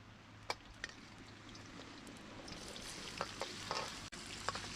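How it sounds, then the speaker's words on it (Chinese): Cured pork, onion and chili vegetables sizzle as they are stir-fried in a pan at an outdoor wilderness campsite, with a steady frying hiss broken by sharp clinks and scrapes of stirring. "要把这个肉串起来单独炒，把菜炒好了，把肉加进去。"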